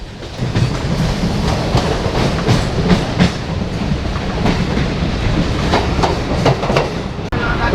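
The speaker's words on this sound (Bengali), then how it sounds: "এবার কিন্তু বালিগঞ্জ ঢুকছে ট্রেনটা" Suburban local train running from Sealdah toward BBD Bag and approaching Ballygunge station, with a steady loud rumble and repeated clickety-clack wheel beats throughout, recorded from on board.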